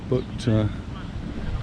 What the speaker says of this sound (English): It might get a bit too windy here for me to keep the video on for too long